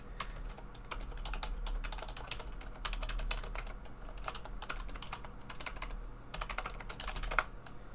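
Rapid typing on a computer keyboard while configuring network routers, a continuous patter of quick clicky keystrokes in bursts with short pauses, close and fairly quiet, no talking.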